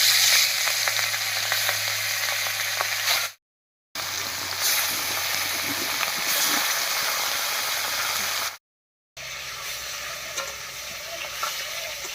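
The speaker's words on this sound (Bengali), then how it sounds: "কড়াইতে সর্ষের তেল দিয়ে মাছগুলো হালকা করে ভেজে নেব" Hilsa fish frying in mustard oil in a pan (kadai) over a stove gives a loud, steady sizzle and crackle that runs throughout, broken by two short silent gaps.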